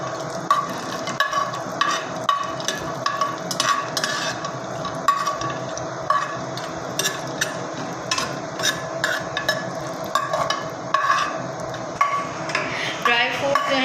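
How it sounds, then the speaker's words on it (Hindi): Pistachios, almonds and raisins lightly frying in a pan, with a spoon stirring in frequent clinks and scrapes against the metal over a faint, steady sizzle. "अब हम ड्राई फ्रूट जो है वो फ्राई करने लगे हैं। तो हम इसमें पिस्ता डाल रहे हैं, बादाम डालेंगे और किशमिश डालेंगे"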